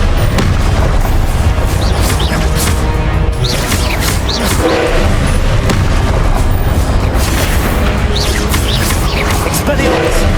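Confringo blasting-spell explosions boom repeatedly through a Hogwarts Legacy fight, heavy bursts and crashes piling up over a loud, unbroken wall of battle noise, with spoken spell cries mixed in.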